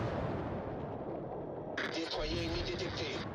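Ship guns fire in a naval battle video game, heavy booming shots with a bright blast burst midway, rolling over constant low battle rumble.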